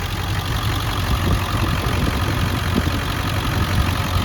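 A 2000 Ford Excursion Limited 4x4 with the 7.3-liter turbo diesel idles steadily, a constant low rumble with faint clatter that holds level throughout, close by and with no voices.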